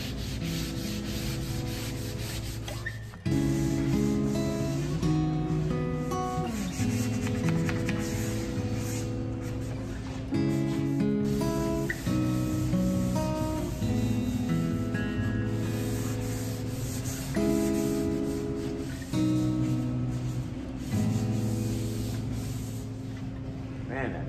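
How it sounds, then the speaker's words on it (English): A stained wooden Scandinavian-style hall table being sanded, with steady rubbing strokes running throughout under louder background music. "I'm going to sand this up and get it"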